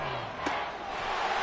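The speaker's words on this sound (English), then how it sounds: "The crowd getting into it as we come up on a big third down." Stadium crowd noise from the Madden 24 football video game ahead of a big third down swells as a broad roar, with a sharp thump partway through.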